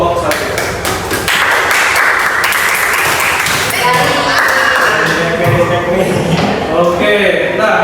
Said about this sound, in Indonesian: sebelumnya tepuk tangan untuk kelompok 1